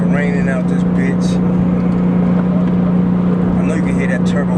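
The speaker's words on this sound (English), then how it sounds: "I know you can hear that turbo engine roaring" A Porsche 911 Turbo engine drones steadily from inside the cabin in the rain, a loud constant low hum with a hiss of road and rain noise over it.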